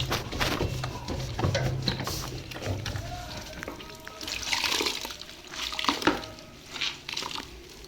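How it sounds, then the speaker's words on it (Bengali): Water running and dribbling from a cleaning cloth being wrung out while cleaning a fridge, with wet squeezing, splashes and handling clatter, close and fairly loud. "এবার এটাকে বার করে এই যে এইভাবে চিপে নেব।"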